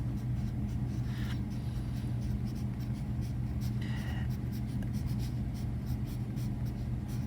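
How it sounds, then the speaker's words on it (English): A pen scratching on paper while a comic is drawn, light intermittent strokes over a constant low hum of background noise. "and I might write that down here."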